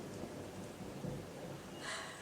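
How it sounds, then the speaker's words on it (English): Thunder rumbles low and soft during a rainstorm while steady rain hisses throughout, heard from indoors, faint and continuous, with a brief brighter wash of rain near the end and no talking. "So that was thunder and there is constant rain."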